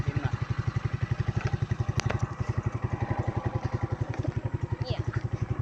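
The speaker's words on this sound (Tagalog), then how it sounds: "Kinuha na ni daddy yung aming sasakyang motor." A family motorcycle idles close by on a trip to school, a loud, regular low putter of rapid pulses that holds steady throughout, with a brief clack partway through.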